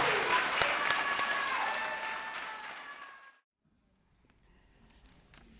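A large audience at a community college respiratory therapy pinning ceremony bursts into sustained applause for the graduating class, clapping loudly for about three seconds before it fades abruptly to near silence.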